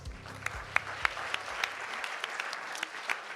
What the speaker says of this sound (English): let's give Endo another round of applause